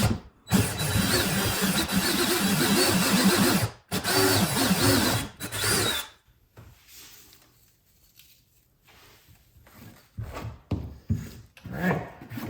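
A power drill whirs loudly in sustained bursts through a kayak hull, stopping briefly between runs, then gives way to quieter handling noises and short mechanical clicks.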